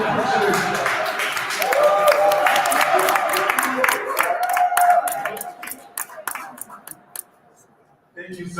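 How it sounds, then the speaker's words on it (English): A crowd gives a burst of clapping and cheering that fades into scattered claps, then a voice speaks near the end. "Another applause for me"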